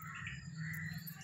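Birds chirp and tweet faintly at dawn under a cloudy, pre-rain sky, with small scattered calls over a steady low background hum.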